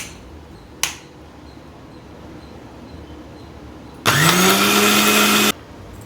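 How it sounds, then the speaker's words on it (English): After a sharp click and a pause, a blender roars loudly for about a second and a half, grinding apple and ice into a smoothie, then stops abruptly. "Now I'm going to grind it until smooth."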